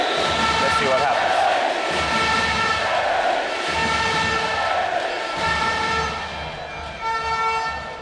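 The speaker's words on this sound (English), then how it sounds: "the crowd are getting behind them" Spectators at a triples futnet world championship final cheer and blow horns, loud sustained noise from the crowd with repeated tooting blasts throughout and a commentator talking over it.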